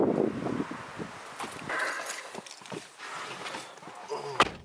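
Wind gusting outdoors by a parked shop car, a soft rushing buffet that rises and falls under a voice, with light rustles and a sharp knock near the end.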